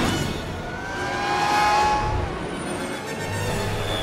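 Cars passing repeatedly in a Men in Black film scene, a loud steady engine roar swelling and fading with a high whine, set against a busy street background.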